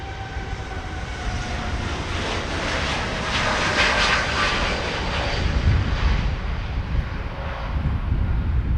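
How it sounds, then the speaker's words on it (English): TUI Boeing 787 Dreamliner jet passing at Amsterdam Schiphol Airport, a broad continuous engine roar that swells as it goes by and stays loud throughout, with no voices over it. "we have the TUI Dreamliner, the Boeing 787, and that is on its way to Curacao"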